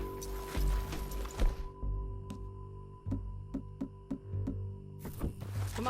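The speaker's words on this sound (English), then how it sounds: "Get back on your horse, John." Steady clip-clop of horse hooves at a walking pace in Red Dead Redemption 2, a string of distinct thuds over a low ambient hum, with busier noise at the start and end.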